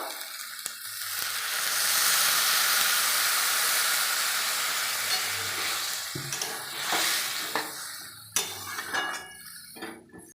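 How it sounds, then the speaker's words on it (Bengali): Fish curry is stirred in a frying pan, giving a loud hissing sizzle that swells and then eases, followed by scattered clinks and scrapes of the spatula against the pan. "ভালো করে নেড়ে নেব"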